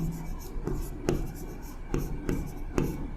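A physics solution is written out by hand in quick scratchy strokes, five or six distinct scrapes in an irregular rhythm, close and fairly quiet.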